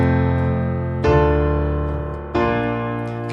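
Three sustained piano chords in root position, each struck firmly and left to ring, with the hand jumping between positions from one chord to the next; played close and alone.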